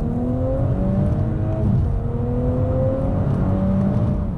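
A 2017 Audi S5 coupe accelerating hard from 30 to 70 mph, heard from inside as a loud, steady engine roar with rising pitch sweeps through gear changes, no talking.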